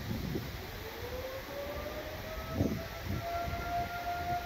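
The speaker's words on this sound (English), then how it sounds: "Here comes the siren." A civil defense tornado warning siren rises and wails in a steady, far-off tone during a storm at a campsite, with a dull rumbling storm background and no talking.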